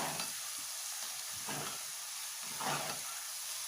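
Garlic paste frying in hot oil for radish chutney, a steady close sizzle with a few louder bursts of spitting as it is stirred, no voices.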